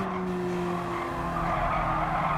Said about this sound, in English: as we just continue to spin out